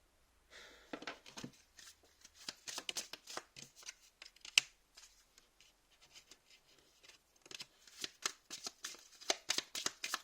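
Oracle cards shuffled by hand, a run of quick, crisp papery riffles and flicks in irregular bursts with short pauses, close and quiet.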